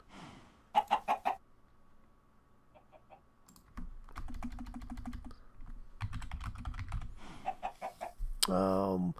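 Video game chickens give short clucking bursts near the start and again at the end, alongside steady computer keyboard typing and clicking through the middle.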